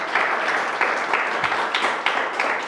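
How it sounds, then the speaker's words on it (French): An audience applauds steadily at a French literary interview, a broad wash of clapping hands with a few sharper bursts throughout, moderately loud and without talk. "j'ai envie qu'on applaudisse pour ça"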